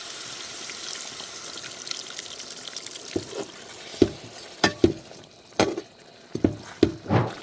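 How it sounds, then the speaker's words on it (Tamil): Water splashes and sizzles into a pan of chicken and chickpea curry cooking with curry leaves, a run of sharp, close pops and hisses that grows busier over the last few seconds, with no talking. "இந்த நேரத்தில் கொஞ்சம் தண்ணி சேர்த்துக்கிறோண்ணே"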